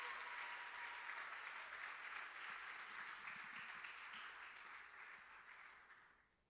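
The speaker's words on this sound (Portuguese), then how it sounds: "Você pode dar uma salva de palmas para Jesus aqui bem forte." Church congregation applause, a dense sustained roar of many hands clapping that holds steady, then fades out toward the end, with no talking.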